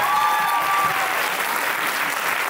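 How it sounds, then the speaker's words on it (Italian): Audience applause at a live Aosta Valley game show, a steady wash of many hands clapping at moderate level with faint crowd murmur beneath, no talking on top. "Un applauso."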